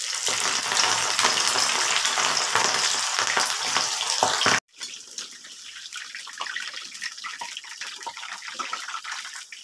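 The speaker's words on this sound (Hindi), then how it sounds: "यहाँ पे सरसों का तेल गर्म हो चुका है तो अब मैं थोड़ा थोड़ा करके इसको फ्राई करूँगी" Seeded jackfruit pieces frying in hot mustard oil: a loud, dense sizzle that suddenly cuts out, then continues quieter with scattered crackles and spits.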